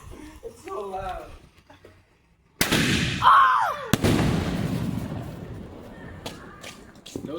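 Fireworks blast outdoors at a Fourth of July celebration: one very loud close explosion with a sharp crack and long rumbling tail, then a second bang, after a brief startled shout and followed by faint voices.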